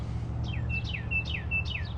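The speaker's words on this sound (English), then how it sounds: "That's a cardinal there." Northern cardinal song near an electric-bike trail along the Maumee River: a run of four clear downslurred whistles, evenly paced and moderately loud over a steady low outdoor rumble.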